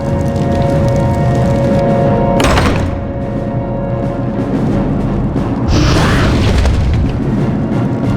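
Saphiron the dragon attacks in Warcraft 3 Reforged, loud booming blasts and roaring bursts layered over a constant dense battle din, with two heavy impacts a few seconds apart.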